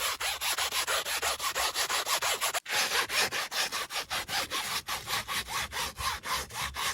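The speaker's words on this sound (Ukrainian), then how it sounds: "Далі беремо ось цю щітку, ну і за допомогою неї пробуємо це все відчіпувати." A stiff brush scrubs car upholstery treated with MANNOL stain cleaner, giving a fast, steady back-and-forth rasp with one brief pause midway, close and loud with no talk.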